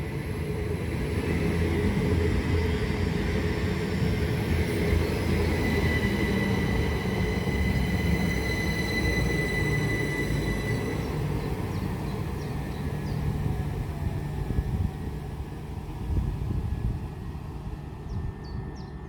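A Great Western Railway Class 387 electric train passes at Pangbourne on the Great Western Main Line, a loud sustained roar of wheels and motors with a faint whine, fading slightly toward the end.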